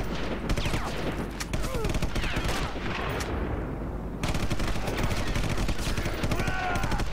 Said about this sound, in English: He's been shooting at me, but he's invisible.